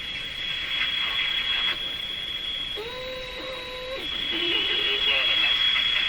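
A Sparton Model 5049 radio breaks into spurious oscillation, producing a steady high-pitched whistle over constant hiss, joined midway by a brief lower humming tone that stops after about a second.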